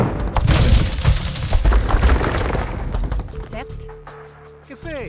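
In the strategy video game Age of Empires II, cannon fire and battle booms crash loudly in a dense barrage of battlefield noise that thins out toward the end. A low voice is heard near the end.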